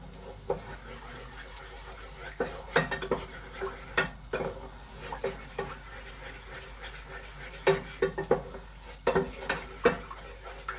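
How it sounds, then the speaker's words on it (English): A spoon stirs a lumpy cheese sauce in a pan, making intermittent scraping and clicking strokes in irregular bursts over a faint background hum. "stir it until all these lumps are gone"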